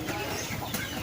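Young chickens hatched in an incubator and raised without synthetic vitamins or drugs cluck and chatter in a brief, close burst of overlapping calls.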